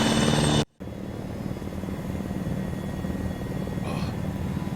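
A helicopter in the Arma military video game makes a steady, close rotor and engine drone. It cuts out briefly near the start, then continues evenly to the end.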